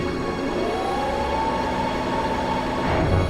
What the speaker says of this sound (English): Ixion, a time-traveling locomotive. A fantastic non-stop express that can cross both time and space.